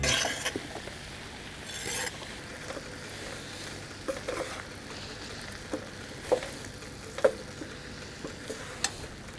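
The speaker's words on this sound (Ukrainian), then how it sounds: "І відправляємо печериці у сковорідку." Steady sizzle of mushrooms frying in a pan, with occasional sharp clinks and scrapes of a utensil against the cookware, no talking.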